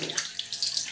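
A tap runs steadily for hand washing, a close, continuous hiss and splash of water pouring into a sink with no talking.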